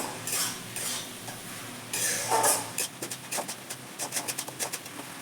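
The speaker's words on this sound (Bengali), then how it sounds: "ভালো করে মশলাটা কষিয়ে নেব" A spice paste of ginger, garlic, onion and green chilli is stir-fried for chicken curry, a spatula scraping and clinking against the pan in irregular strokes with a soft sizzle beneath, close and moderately loud.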